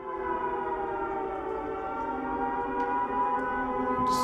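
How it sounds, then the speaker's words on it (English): A civil defense air raid siren wails alone, a loud sustained rich tone that holds steady throughout with a slight swell, joined by a brief noisy burst right at the end. "Сирени."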